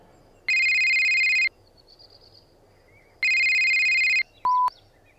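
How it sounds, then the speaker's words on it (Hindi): A phone rings with an incoming call: two loud bursts of bright electronic ringtone separated by a pause, followed by a short beep, heard alone and up close. "उसने बेडसाइड बॉटल से पानी पिया ही था कि विवान का कॉल आ गया।"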